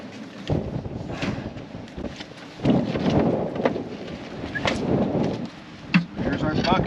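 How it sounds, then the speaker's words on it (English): Strong gusts of wind buffet and rumble loudly in bursts outdoors at a muddy building site, with heavy rushing noise rising and falling close by. "it is so windy and very muddy"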